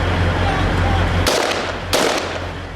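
Gunfire in combat, two sharp loud reports cutting through a heavy, rumbling wash of background noise, close and harsh.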